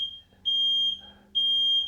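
A shrill, high-pitched smoke alarm, set off by a hot air gun heating plumbing tubing, beeps twice, loud and piercing, with a short pause between the chirps and faint background noise.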